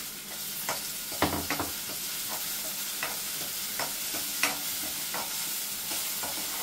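Tomato frying in a pan for a veg curry with ginger, chili and cashew paste: a steady loud sizzle throughout, punctuated by several scraping stirs of a spoon against the pan, with no talk.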